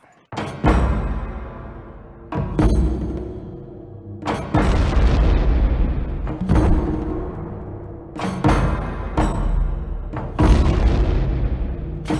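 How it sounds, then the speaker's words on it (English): A one-pound explosive charge hung on a test structure at a test range, with a series of heavy booms and blasts recurring roughly every two seconds, each loud onset followed by a long rumbling decay. "We just hung 1 pound charge right about here, and you can see that it blew the structure away from the point of explosion."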